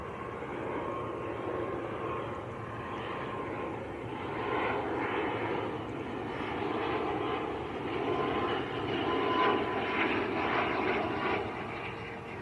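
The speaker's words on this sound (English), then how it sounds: "So this is Aer Lingus from Belfast," An Aer Lingus ATR 72 turboprop arriving from Belfast at Manchester Airport drones steadily in the distance, its propeller hum rising and falling gently over twelve seconds with no voices.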